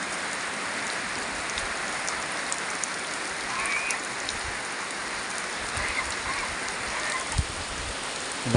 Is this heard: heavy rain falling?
yes